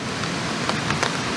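Rain patters on a hammock tarp at a camp along a hiking trail, a steady hiss with a few louder drops tapping on the fabric.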